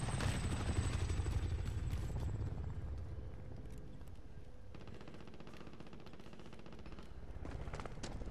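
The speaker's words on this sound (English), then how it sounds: "Choppers inbound." A helicopter flying in during a Call of Duty Warzone match, its steady rotor thump low and loud throughout, mixed with bursts of gunfire and rapid clattering game sounds, with no talk.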